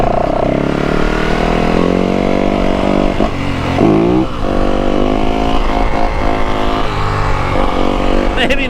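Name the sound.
WR 450 dirt bike riding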